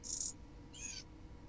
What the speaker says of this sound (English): it's definitely a bird